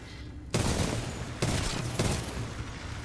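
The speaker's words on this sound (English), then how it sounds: "Oh boy, that gun's hard to control." Gunfire from a hard-to-control gun in Titanfall 2, heard as three loud sustained bursts of rapid fire separated by short pauses over steady game background noise.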